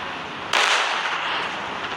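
A sticky bomb detonates in a video game, a sudden loud explosive burst followed by a sustained hissing, crackling roar that fades only slightly over the next second and a half.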